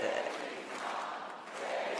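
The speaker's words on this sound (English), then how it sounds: "the crowd is now chanting JD's mom" Convention crowd chanting at the Republican National Convention, a faint, distant rumble of many voices rising and falling in a repeated chant across a packed hall.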